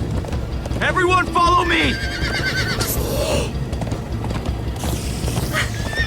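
Horses in the Minecraft Story Mode video game gallop with steady clip-clop hoofbeats and sharp whinnies, loud and close, while characters shout and talk over the ride.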